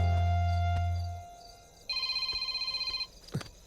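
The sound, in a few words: phone ringing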